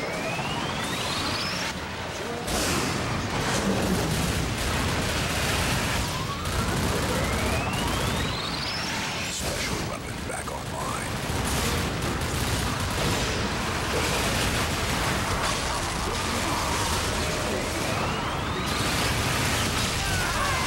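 Dense, sustained bursts of mega-gun fire rattle through a Twisted Metal vehicle-combat match, loud and almost continuous with rising siren-like sweeps layered over the clatter.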